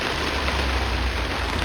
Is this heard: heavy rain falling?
yes